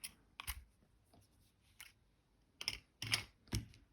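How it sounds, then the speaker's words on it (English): Wire cutters snip jewellery wire at a quiet workbench: a few sharp, faint clicks and snaps in irregular bursts, with soft handling noise between them. "just going to grab my cutters. And I'm going to cut that there."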